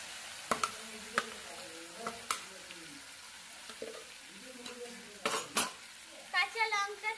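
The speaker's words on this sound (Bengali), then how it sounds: "এখন আমি মাটনটা একটু কষিয়ে নেব" Mutton being sautéed in a pan before taro is added, a faint sizzle under sporadic spoon clanks against metal and a few soft scrapes, fairly quiet, with a brief faint voice in the background.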